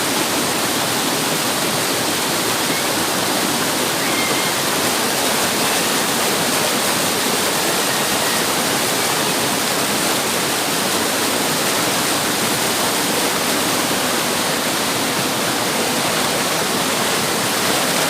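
Tamadong Falls in Barangay Mukas, a large waterfall running at high volume, roars steadily and loudly for the whole stretch as a dense, unbroken wash of rushing water with no voices.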